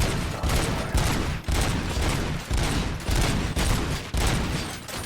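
Rapid bursts of gunfire from the RoboCop: Rogue City video game, loud and dense, with repeated volleys separated by brief gaps across the whole stretch.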